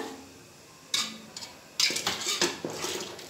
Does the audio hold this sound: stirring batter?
yes